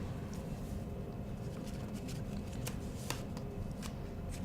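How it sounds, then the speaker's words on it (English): Paper question cards and rock cards from an earth science lesson riffling and slipping against each other as they are lifted and the loose ones drop, a close, soft, continuous shuffling with a few sharper flicks. "pull up gently so that all the cards that do not fit fall"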